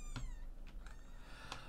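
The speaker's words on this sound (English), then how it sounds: "these kittens are just, you know, making their little cameo" Kittens in The Sims 4 give a few high, harmonic meows, one near the start and another near the end, set over low game background sound.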